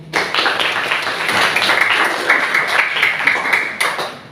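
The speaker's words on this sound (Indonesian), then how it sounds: "Kita tepuk tangan dulu untuk Pak Hari, Ihsan, dan Riyani." A small group clapping, steady and scattered, lasting a few seconds with uneven individual claps.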